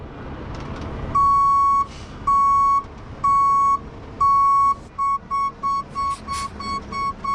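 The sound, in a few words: truck reversing with backup beeps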